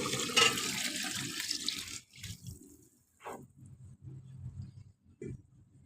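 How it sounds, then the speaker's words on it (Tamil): Water pours and splashes loudly into a cooking pot of vegetable biryani for a couple of seconds, then stops, followed by quieter clinks and soft handling sounds. "இப்போ வந்து தண்ணி சேர்த்திடலாம்"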